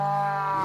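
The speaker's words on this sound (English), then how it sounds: "We just surrounded a bunch of cows." A cow gives a brief, sustained low moo, steady and fairly clear, lasting under a second in an animated scene.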